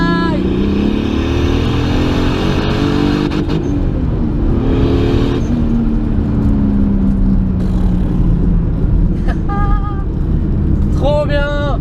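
A turbocharged BMW E46 328 drives on a road, its engine droning steadily with rising and falling pitch as it accelerates, loud and close throughout, with a few short whistling turbo notes near the end.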